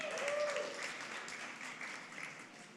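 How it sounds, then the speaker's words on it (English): A small indoor audience at a Harry Potter fan event in a rec room claps steadily, faint and fairly distant, with a murmur of voices mixed in. "Give him a round of applause."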